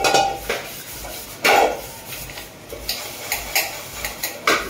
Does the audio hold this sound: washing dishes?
yes